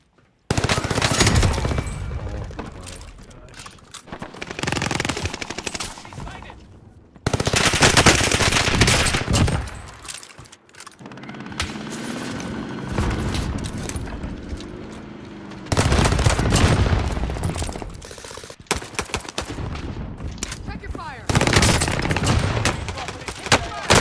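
A Welgun machine gun fires in Call of Duty Warzone, loud rapid automatic bursts broken by short gaps, close and dominant over game ambience.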